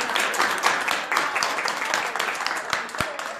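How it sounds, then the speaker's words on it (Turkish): An audience claps in a brief, dense burst of applause, with hands clapping close by and voices murmuring underneath. "O zaman bir alkış alalım."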